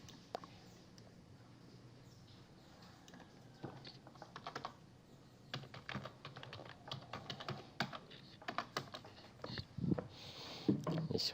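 A website address is typed on a computer keyboard in sparse, uneven bursts of clicks that grow busier and louder toward the end, set against a quiet room.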